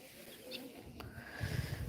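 Soft pigeon cooing in the background, low and muffled, with some outdoor noise building toward the end.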